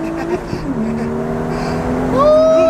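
A BMW 435i Stage 2 pulls off hard in first gear with brief wheelspin, its engine note climbing loud and close while people whoop and talk over it.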